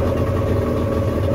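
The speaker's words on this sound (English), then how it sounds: "we're idling a little high, at 400 RPM higher than it should" A pontoon boat engine idles slightly high at about 400 RPM above normal, giving a steady, loud low rumble that holds even and unbroken throughout.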